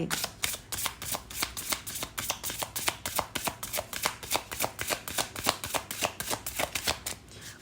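Tarot cards shuffled by hand in a quick, steady run of crisp riffling flicks, close and fairly loud, continuing for several seconds with no talking.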